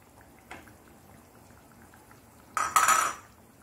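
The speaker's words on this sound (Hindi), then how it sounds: "अब इसमें हम जो हमने आलू निकाल के रखे थे वो हम डाल देंगे।" Boiled potatoes are dropped into egg curry in a cooking pan, with a faint tap and then a louder clatter and sizzle lasting about half a second over quiet kitchen background.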